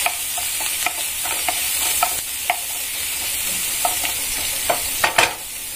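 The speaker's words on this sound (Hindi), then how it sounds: "पहले हम इसमें ग्रेटेड लहसुन डाल देंगे और साथ में ग्रीन चिली भी, थोड़ा सौते करने के बाद" Grated garlic and green chili sauté in a pan over medium flame, a steady bright sizzle broken by scattered stirring scrapes and clicks, with no voices.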